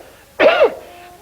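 A single harsh, throaty cough close to the mic, brief and loud, with quiet room tone before and after.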